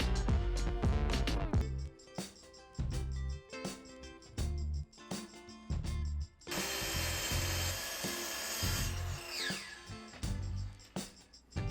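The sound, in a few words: track saw cutting edge of wooden boards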